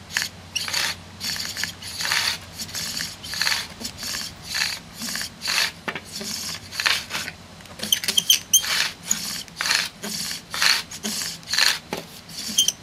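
Bow drill spindle grinding in a fireboard slot, a loud close rhythmic rasping that repeats with each push and pull of the bow, quickening and turning scratchier partway through.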